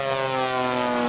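Bobby Younkin's Samson airplane roars under full power at a 2004 Sussex airshow, its smoke system screaming along with it in a loud, sustained droning whine of steady harmonic tones.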